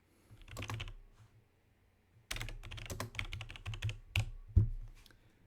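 Typing on a computer keyboard while entering text into a Microsoft Word document, with bursts of close, rapid key clicks separated by a short pause, then denser tapping and a couple of heavier keystrokes near the end.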